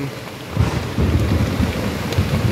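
Thunder rolls in low and heavy over a downpour pounding outside a tent pitched near a roaring waterfall. The rumble swells after a brief quieter moment and stays loud throughout.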